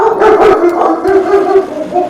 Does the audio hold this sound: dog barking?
yes